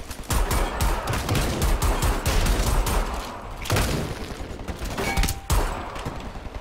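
Dense gunfire fills the Homefront: The Revolution firefight, with rapid overlapping rifle shots and bursts that are loud, close and continuous, and no one is talking.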